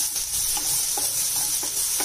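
Chopped onions sizzle in a hot pan while a spoon stirs them, giving a bright, steady frying hiss with small rhythmic scraping knocks.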